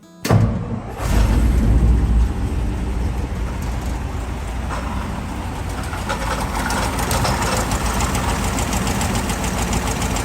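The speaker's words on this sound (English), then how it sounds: "the 292 Y-block V8 that made up to 160 horsepower and" A Ford 292 Y-block V8 in a 1961–1966 Ford F-Series truck starts up and settles into a steady, loud, rumbling idle that runs unbroken to the end.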